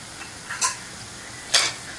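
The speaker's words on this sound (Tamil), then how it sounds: "பூந்தி போட்டு கொஞ்சம் கலக்கி விடுங்க, எல்லாம் அடியில் போய் நின்றுடும்" Kara boondi fries in oil with a faint hiss underneath. Two quick, distinct scraping strokes from stirring stand out about a second apart, with no speech.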